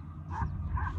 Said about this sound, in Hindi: डॉगी ने भी भौंकना शुरू कर दिया।